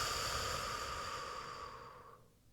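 One long, slow breath let out, close and breathy, holding steady before trailing off gradually to quiet after roughly two seconds, with no voice over it.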